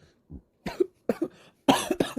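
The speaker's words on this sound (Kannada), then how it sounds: "ಒಮ್ಮೆ ಕೆಮ್ಮು ಬಂತು" Several short, close coughs in quick bursts, separated by brief silences, with no talking.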